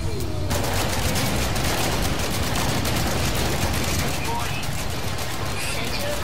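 Upgraded multi-tool gun firing in No Man's Sky, a dense, loud, continuous burst of rapid shots lasting throughout, with a person talking over the gunfire.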